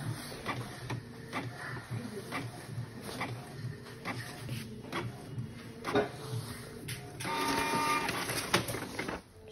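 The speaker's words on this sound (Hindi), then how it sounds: "हम एक बार इसका नोजल चेक करते हैं मेंटेनेंस में जाके एक बार इसका नोजल चेक करके हम इसका देखते हैं क्या है कंडीशन" A Canon G3060 inkjet printer runs a nozzle check during maintenance, its carriage whirring back and forth with repeated mechanical clicks and feed clunks, growing busier near the end, close and fairly quiet.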